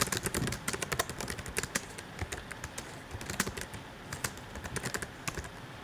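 Fast typing on a computer keyboard, a dense run of close, crisp key clicks with brief pauses, alone without talk.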